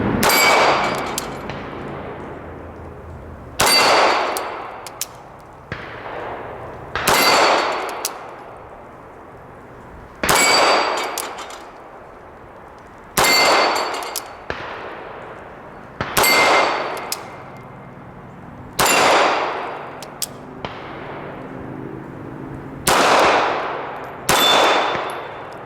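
Single pistol shots from a Sig Legion 9mm fired double action at an outdoor range, about ten loud sharp cracks spaced a couple of seconds apart, each ringing with a metallic clang on steel targets before fading.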